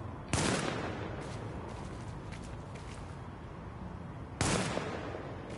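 Two sharp gunshot bursts ring out in Tom Clancy's The Division, one near the start and another about four seconds later, over a steady bed of game ambience with no talking.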